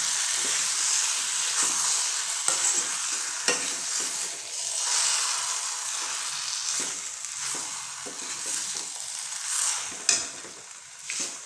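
Chilli chapathi with egg being stir-fried on low heat, with steady close sizzling and hissing plus repeated scraping stirs of a spatula in the pan, no talk.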